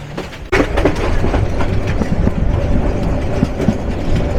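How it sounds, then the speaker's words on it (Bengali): Kishoreganj Express passenger train running toward Dhaka, steady loud rumble with rhythmic clickety-clack of wheels over rail joints, a sharp jolt near the start, no voices. "কিশোরগঞ্জ এক্সপ্রেস আবার ঢাকার পথে ছুটছে"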